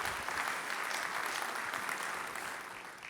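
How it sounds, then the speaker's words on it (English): An audience claps in sustained applause at a civic event in Long Beach, a dense, even roar of hands that slowly fades near the end. "I want to give them a round of applause"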